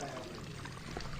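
Water pours out in a short, steady splashing stream from a drum at a rural village home, rushing and gurgling throughout.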